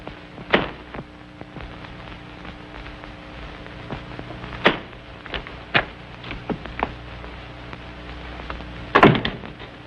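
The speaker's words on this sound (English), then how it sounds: "This bolt, by the way, is well oiled." A well-oiled door bolt in an old 1936 mystery film, heard as a few sharp knocks and clicks spread across a quiet, noisy background, with a louder clustered thump near the end.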